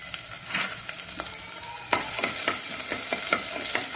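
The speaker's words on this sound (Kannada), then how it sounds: "ಇದೀಗ ಕಂದು ಕಲರ್ ಬರುವ ತನಕ ಇದನ್ನು ಹೀಗೆ ನಾವು ಹುರಿಬೇಕು" Oil sizzles steadily in a pan while curry leaves and other ingredients fry until brown for a Mangalorean white pomfret fish gravy, with regular scraping stirs of a spoon against the pan.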